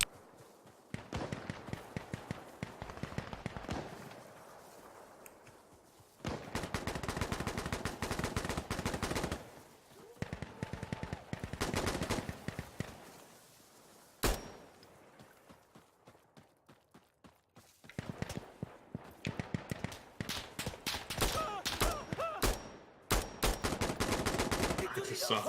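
Bursts of automatic and single-shot gunfire from a multiplayer shooter video game come in repeated volleys with short quiet gaps, loud and fairly close, and players talk faintly now and then.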